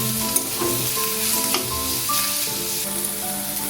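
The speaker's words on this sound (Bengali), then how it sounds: "আলুর সাথে পেঁয়াজটা লাল করে ভেজে নিচ্ছি।" Potatoes and chopped onions frying in a pan while a Bombay duck fish dish is cooked, with a steady close sizzle and occasional scrape of stirring throughout and no voices.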